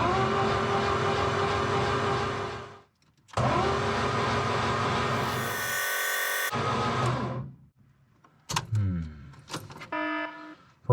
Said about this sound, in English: I'm just going to Turn the engine over on the starter motor